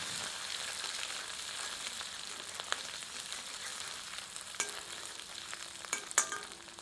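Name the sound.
ginger, garlic and red chili paste frying on low heat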